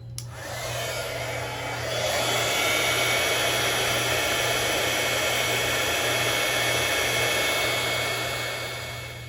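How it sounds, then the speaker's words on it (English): Craft heat tool blowing hot air to melt embossing powder on a card panel, a steady loud whooshing drone that starts abruptly and holds continuously, close by. "So now it's time to bring in my heat tool to heat the embossing powder so it'll melt."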